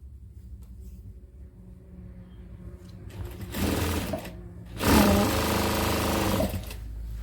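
A sewing machine stitches the folded hem of a petticoat. A quiet hum opens, then two close, loud runs of rapid whirring stitching follow.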